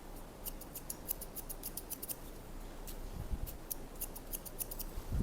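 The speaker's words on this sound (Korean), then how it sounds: "발수가 많이 나가지 않는 가위로 기장을 줄이면서 끝머리 명암을 좀 만들기 위해서 티닝 가위로 자르겠습니다" Scissors snip through a middle-aged man's thin, sparse hair at close range in a quick series of crisp, separate cuts. A pause follows, then another burst of snips, likely from thinning scissors.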